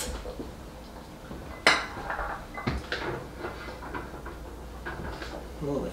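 Kitchen clatter of a heavy pan being handled while plating a bean salad, with a sharp metallic knock near the start and softer dish and cutlery clinks after it, over low room noise.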